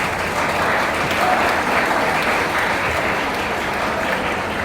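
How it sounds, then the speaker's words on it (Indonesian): A large church congregation at a festival worship service applauds its parents, thick continuous clapping filling the room at a loud, even level for several seconds. "Mari kita tepuk tangan dulu untuk semua orang tua kita."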